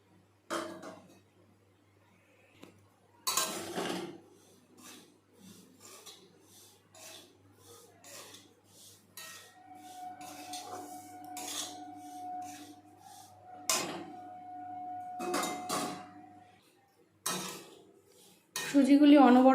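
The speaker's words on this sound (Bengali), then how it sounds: "সুজিগুলি অনবরত নাড়তে থাকতে হবে," A metal spatula stirs semolina dry-roasting in a hot wok, making repeated scraping and clinking strokes against the pan, close and steady, with a faint hum running under part of it.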